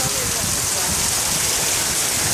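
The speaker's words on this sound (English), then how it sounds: "It's currently a hurricane." Hurricane rain pours down hard, a loud, dense, unbroken hiss of heavy rain and wind filling the whole clip.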